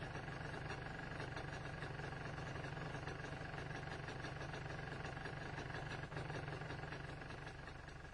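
A steady, faint MZ ETZ 251 motorcycle engine idles continuously at a low rumble around 1,300 to 1,500 rpm, unchanging throughout with no voices.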